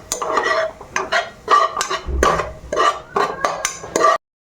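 A utensil stirs and scrapes food in ghee in a pot with a steady run of close, clattering strokes and a few metallic knocks against the pot. No voices are heard.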